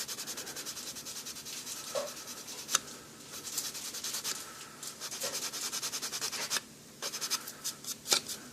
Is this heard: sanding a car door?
yes